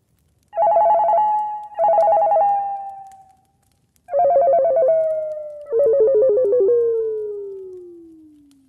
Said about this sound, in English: I remember hearing my cell phone ringing throughout the night